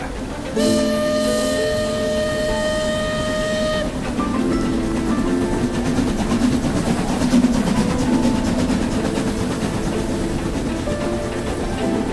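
A steam train whistle blows in layered tones, then gives way to the rumbling, clattering roll of a train moving steadily along the tracks.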